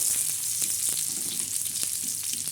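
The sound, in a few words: onion frying until red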